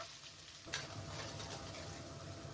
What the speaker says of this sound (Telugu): ఇప్పుడు ఇందులోనే ఉల్లిపాయ ముక్కలు కూడా వేసేస్తున్నా